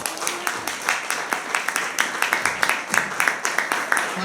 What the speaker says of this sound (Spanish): ¿Cuántos aplauden al Señor esta mañana?